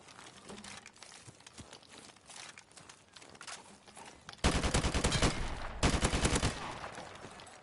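Assault rifle fire in Call of Duty, rapid automatic bursts that start lighter and then turn loud and dense in two long sustained volleys near the end, no talking.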